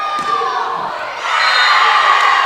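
The Cougars home crowd cheering loudly at a volleyball championship match, a roaring mass of shouts and whoops that swells even louder partway through.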